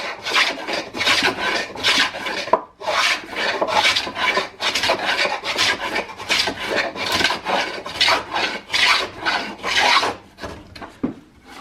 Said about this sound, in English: I just plane that in.